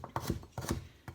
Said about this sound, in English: we'll just let that soften while I chop up the parsnip